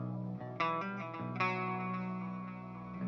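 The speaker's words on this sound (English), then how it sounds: "you can actually use it as a distortion unit" A delay unit is pushed into distortion on a home studio mix, giving a gritty, sustained tone with layered repeating notes that shift a few times and ring on, loud and steady with no talking.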